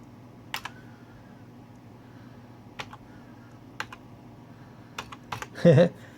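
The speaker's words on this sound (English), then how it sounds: "I've worn the key, the number, the letters off of most of my keys, so when it's time to hunt and peck" Hunt-and-peck typing on a computer keyboard with worn-off key letters, isolated key clicks spaced irregularly, ending in a quick cluster of taps and a short louder burst.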